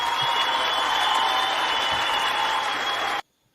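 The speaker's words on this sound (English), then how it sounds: "Round of applause." Sustained applause from a large crowd, dense and steady, under a constant tonal hum, ending abruptly.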